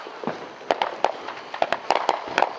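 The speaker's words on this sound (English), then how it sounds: "got the best fireworks show in town" Fireworks show bursting in a small town, a rapid series of sharp bangs and crackling pops at medium distance, nearly non-stop across a noisy background.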